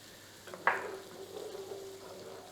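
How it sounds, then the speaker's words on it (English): Ingredients frying in a pan, a sudden sharp sizzle on contact, then a softer hiss that fades under faint stirring. "now we're going to let that fry for 30 seconds to get a little bit fragrant"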